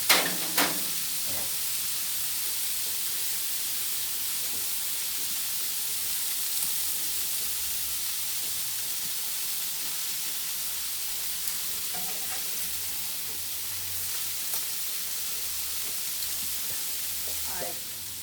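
Burger patties topped with cheese sizzle steadily on a grill, a continuous broadband fry hiss with occasional small pops and faint low rumble, alone without talk throughout.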